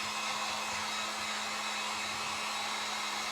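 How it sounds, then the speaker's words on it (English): A heat gun blows hot air to dry a napkin craft, giving a steady, loud, even rushing hiss with a faint constant hum and no pauses or talk. "I'm going to take my heat gun and dry it a little bit"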